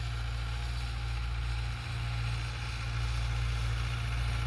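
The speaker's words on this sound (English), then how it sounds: "This is tractor working in the fields in Sindh, Pakistan" A Belarus 510 tractor engine runs in a field in Sindh, Pakistan, giving a steady, low, continuous drone with no voices.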